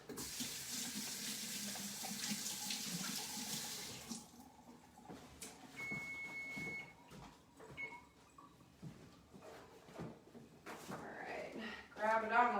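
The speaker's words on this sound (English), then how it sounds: "I'm gonna go rinse my hands really fast." A kitchen tap runs steadily for about four seconds while hands are rinsed, a close, bright hiss of water that then stops, followed by scattered kitchen clatter and a person talking.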